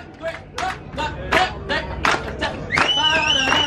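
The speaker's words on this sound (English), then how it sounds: "I want you to clap in time for me" A blues festival audience claps in time, rhythmic handclaps ringing out at a steady beat under a voice encouraging the crowd, with music rising toward the end.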